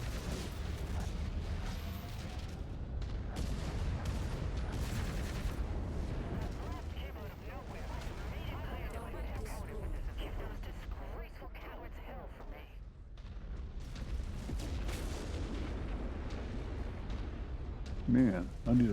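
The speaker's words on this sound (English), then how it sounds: "I can shoot a Gauss rifle." Mech weapon fire, including a Gauss rifle, sounds in the MechWarrior 5 video game: a steady roar of low rumbling engine noise with scattered heavy thumps and bursts, and a player talking over it.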